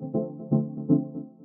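Synth pluck patch in the Vital synthesizer with chorus, EQ and delay: three soft, warm plucked notes at an even pace, each fading into a smeared delay tail, quiet and alone.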